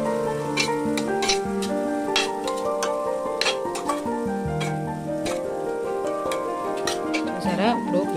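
A spoon stirs red pasta sauce with chilli powder and pizza sauce in a pan, metal scraping and clinking steadily over a continuous sizzle, close and fairly loud.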